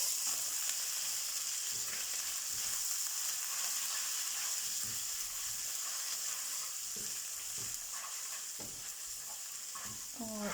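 Garlic ginger paste sizzles in a pan with browned onions while cooking chana daal, a steady close frying hiss broken by soft scraping stirs, with no talking.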